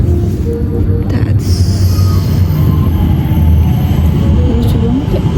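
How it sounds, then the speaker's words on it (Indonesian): A two-car light rail train in Singapore rumbles in steadily with low continuous roar and faint high squeal from the wheels, a voice briefly audible beneath. "Nah, ini dia keretanya."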